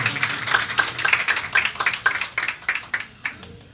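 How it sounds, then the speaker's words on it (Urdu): Congregation clapping loudly at an Urdu church service, a run of sharp, close hand claps in an uneven rhythm, irregular and crisp, with no talking over it. "میں چاہوں گا خدا کے کلام کی آنر کرتے ہوئے زور سے تالیاں بجائیں"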